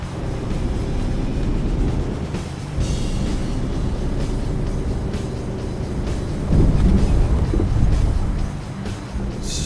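Steady heavy rain with low rumbling thunder in a stormy morning scene in American Truck Simulator near Hobbs, New Mexico, a truck engine and wipers running underneath, with louder surges of rain and rumble toward the end; no talking.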